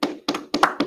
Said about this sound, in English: clap it up, y'all